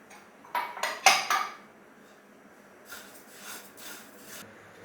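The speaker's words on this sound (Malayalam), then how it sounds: "കറുത്ത എള്ളു, ഓക്കെ, വെളുത്ത എള്ളു, രണ്ടും കൂടി ഒരുമിച്ച്." Black and white sesame seeds dry-roasting together in a pan: a few loud clanks and scrapes of the spoon against metal early on, then softer, scattered rustling scrapes.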